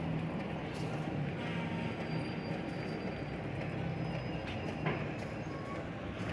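Long-distance train pulling into Kalibaru station in Indonesia, a steady loud rumble of wheels and carriage noise heard from inside the car, with faint murmur of passengers under it.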